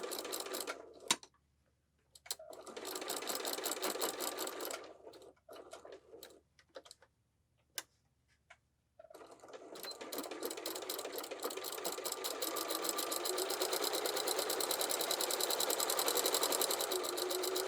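Sewing machine stitching through a thick apron tie, running in bursts with short pauses early on, then a long steady loud whirring run of rapid needle strokes.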